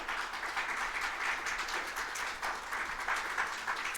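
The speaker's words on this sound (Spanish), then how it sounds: "Un aplauso al Señor." A church congregation applauding during a Spanish-language sermon, a dense, even wash of clapping held at a moderate distance for the whole stretch, with no talking over it.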